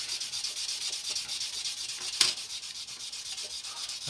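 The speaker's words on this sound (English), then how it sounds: "And then obviously you can come in with a sanding sponges." A sanding sponge rubs over CA filler on a scale model, giving soft, quiet, steady scratchy strokes at close range with one brief sharper scrape midway, and no voices.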